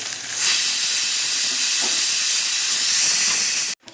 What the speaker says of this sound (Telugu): నేను చక్క పప్పు రెండు విజిల్స్ వచ్చేసాయండి